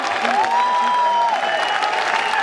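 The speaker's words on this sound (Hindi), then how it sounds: "ये तालियों की गड़गड़ाहट" Dense applause from a crowd at a corporate event fills the space in a steady wash of clapping as the company CEO is welcomed, with a faint sustained tone and a voice above it.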